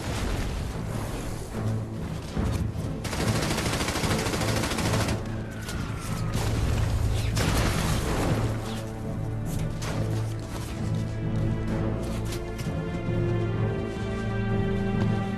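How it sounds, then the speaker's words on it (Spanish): Heavy wartime battle fire: dense, continuous bursts of rifle and machine-gun shots mixed with booms from thrown grenades, loud and close, rolling on without pause and with no voices. "Los hombres dispararon y lanzaron granadas mientras corrían."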